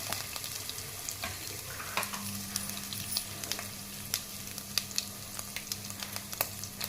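Ginger, mustard seeds and other tempering spices fry in hot oil for a carrot fry, giving a steady close sizzle dotted with sharp crackles and pops throughout, with no voices.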